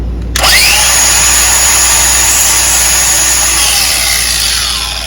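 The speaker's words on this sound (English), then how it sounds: "take a flap sander and you just take off not even 1/8 of an inch" A flap sander grinds down the lip on a Johnson 9.5 HP outboard fuel connector, giving a loud, steady, high-pitched whine that starts abruptly and holds for about five seconds.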